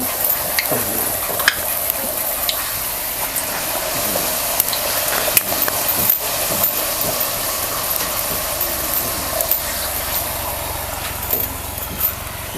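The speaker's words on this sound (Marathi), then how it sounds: "चांगलं लालसर होतं जरा भाजून घ्यायचे" Kadakani fry in hot oil with a constant bubbling sizzle, broken by frequent sharp crackles and pops and now and then a scrape or stir, heard up close and without talk.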